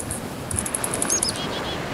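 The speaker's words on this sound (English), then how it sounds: "I hear seagulls." Seagull cries in the Minecraft Tekkit modpack, a cluster of short, high, faint chirps over low background noise.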